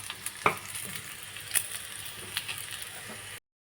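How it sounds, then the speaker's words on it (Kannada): Dried red chillies frying in a pan for a chutney, a soft continuous sizzle broken by a few sharp stirring scrapes and clinks, close and fairly quiet, with no voices. "ಇದು ಚೆನ್ನಾಗಿ ಫ್ರೈ ಆಗಲಿ."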